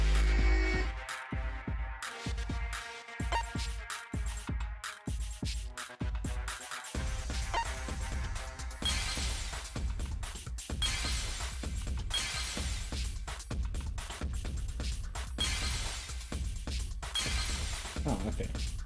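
Danganronpa V3 gameplay with rapid glassy shattering and breaking effects, crisp bursts repeating in quick succession over a busy music bed, and a voice speaking over them.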